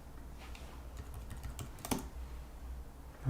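Typing on a computer keyboard during a Linux distribution rebuild, a steady run of light key clicks at close range with one sharper burst of keystrokes near the middle, no talk.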